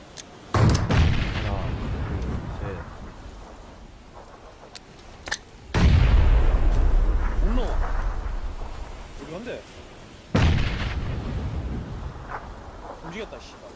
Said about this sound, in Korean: 저기에 내가 수류탄 던질게